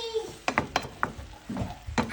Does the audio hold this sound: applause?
no